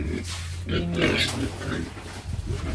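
Grower pigs at feeding time on a farm, loud close grunts and squeals overlapping in a continuous noisy burst, with a person's voice mixed in.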